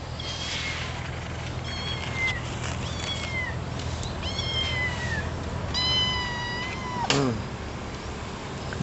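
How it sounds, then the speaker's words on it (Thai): Several cats meow from up in a tree, giving a string of high, rising and falling calls spread through the stretch, with a sharper cry near the end over steady outdoor background noise. "แมว3 ตัว"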